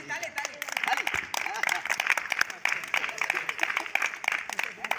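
Children at a madrasa karate class clap their hands in a quick, scattered round of applause, lively and fairly close, while someone talks over it.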